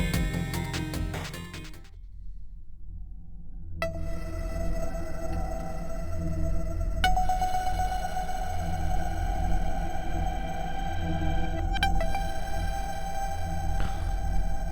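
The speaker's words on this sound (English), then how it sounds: "we have a creepy sounding atmospheric soundscape that comes up as an introduction for level 25" Eerie atmospheric intro soundscape for level 25 of the Shattered Pixel Dungeon video game: a low droning bed beneath sustained tonal layers, a brief hush, then a swelling shimmering tone with occasional sharp plucked accents, steady and without speech.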